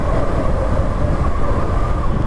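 Beneath Buendia LRT station in Manila, a light-rail train passes overhead with a loud, continuous, close rumble and rattle that dominates the clip.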